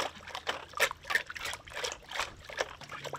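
Trickling, splashing water as a snapper is scaled underwater in a basin, with bursts of scraping and sloshing in an uneven rhythm, close and moderately loud, with no talk.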